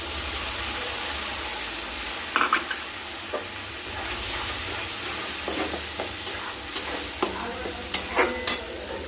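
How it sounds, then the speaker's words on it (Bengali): Ground spice paste for a katla fish curry fries in a hot pan, a loud continuous sizzle broken by scraping stirs and a few sharp utensil knocks toward the end. "এবার আমরা বেটে দেওয়া মশলাটা দিয়ে দেবো"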